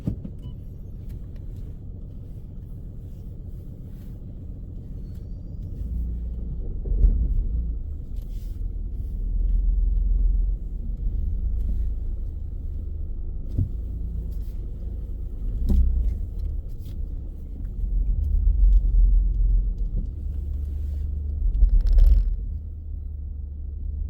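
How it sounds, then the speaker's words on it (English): A car pulling out of a car park during a driving test, its engine a low idling rumble that swells several times as it moves off and manoeuvres, with faint mechanical clicks and knocks inside the cabin and no talk. "you can drive on when you're ready and take us out of the car park"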